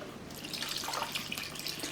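Chilled water poured over churned butter to wash it for homemade ghee, a soft steady trickle and splash running in a kitchen with no talking.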